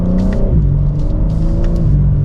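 A 2024 BMW M4 Competition on a test drive, its engine droning loud and close from inside the cabin, revs climbing through shifts with steady rumble.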